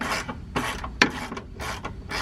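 A ratchet clicks in short rapid bursts while loosening a 17 mm bolt on a car subframe, close and distinct, several quick runs of pawl clicks with brief pauses between.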